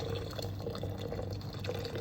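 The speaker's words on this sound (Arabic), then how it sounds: "نجيب الماء الساخن ونمرق هنا الماء الساخن" Hot water pours steadily into a pot of browned meat with wilted onion and spices, a continuous splashing liquid stream heard up close with no talk over it.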